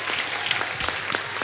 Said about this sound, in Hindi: जोरदार तालियां हो जाएं उनकी मिसेज के लिए भी।